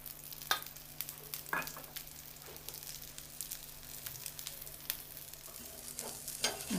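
Egg dosa frying in oil on a pan, a steady soft sizzle with a few sharper crackles and pops scattered across it, fairly quiet and continuous with no talking.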